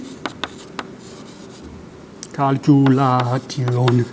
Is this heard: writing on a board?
yes